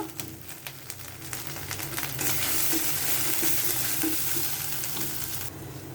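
Spice paste with turmeric powder frying in a pan for a Bengali dish, a steady close sizzle that swells louder partway through, with scraping strokes of a spoon stirring it.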